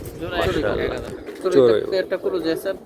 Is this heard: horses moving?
no